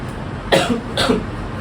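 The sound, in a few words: coughing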